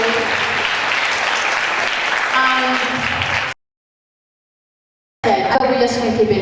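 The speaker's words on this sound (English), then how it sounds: "give us a huge, enormous, and really noisy applause" Dense, loud applause from an audience at an English teachers' seminar fills the room, then cuts off abruptly into silence before returning with voices talking over the noise.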